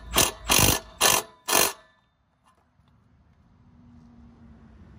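Ratchet wrench tightening a bolt while fitting a decat manifold on a car, four loud close clicking bursts in quick rhythm, then near silence with a faint low hum.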